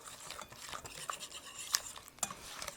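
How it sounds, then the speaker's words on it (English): Spoon stirring cocoa powder into melted butter in a bowl, soft scraping and occasional light clinks against the side, close and quiet with no talking. "I have 2/3 of a cup of cocoa powder. We're going to stir in."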